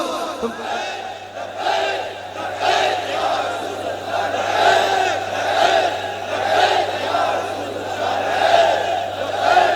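Large crowd chanting the religious slogan Labbaik Ya Rasool in loud rhythmic unison at a religious gathering, repeated surges of massed voices filling the space without pause.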